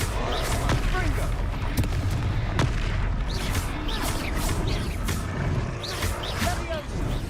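Repeated spell blasts from the Confringo fireball curse in a wizarding action video game, bursting over a dense, continuous battle mix with music and effects throughout.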